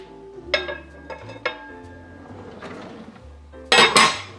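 Metal pans and lids clanking and clattering in a home kitchen while a lid is sought for food cooking on the stove, several sharp knocks spread over a few seconds with a louder burst of rattling at the end, no talking.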